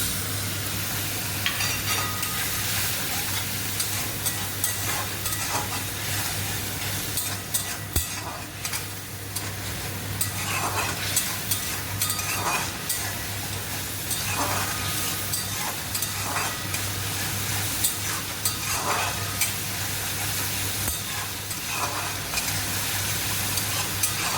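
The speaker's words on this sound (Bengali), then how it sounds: "দুই 3 মিনিট মশলাটা আমি কষিয়ে নিচ্ছি।" Spices and chili powder paste for chana dal are stir-fried, a continuous sizzle and hiss with repeated scraping strokes of a spatula against the pan at a loose, regular pace.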